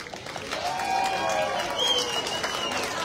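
A crowd at a Memorial Day parade opening ceremony in Canoga Park claps steadily throughout, a continuous patter of many hands at moderate volume with no clear pauses.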